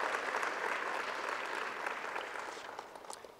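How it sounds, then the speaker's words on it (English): Audience applause at a fire fighters ceremony, a steady dense wash of many hands clapping that stays full before easing slightly toward the end, with no talk over it. "let's give him a round of applause for a quarter century of service."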